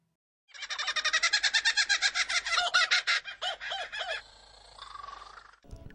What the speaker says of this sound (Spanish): ¿Te has fijado que no todas las aves cantan igual?